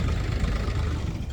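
A tractor engine runs steadily at a farm at night, a close, continuous low diesel rumble with no talk over it.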